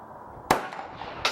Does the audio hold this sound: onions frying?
no